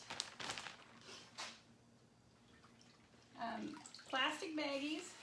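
Wet cloth lifted out of a rinse bucket of water, with splashing and dripping bursts near the end following quieter handling sounds; speech is present.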